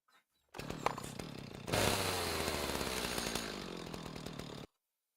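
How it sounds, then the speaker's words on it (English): A chainsaw cuts through wood with a loud, close, sustained engine roar that jumps to a harsher, heavier pitch as the chain bites in, then holds steady for several seconds before cutting off abruptly. No voices are heard. "the true sound of a chainsaw"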